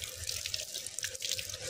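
Water pours steadily from a tap into a pipe outdoors, a continuous hissing splash with gurgling, fairly quiet and with no talk over it.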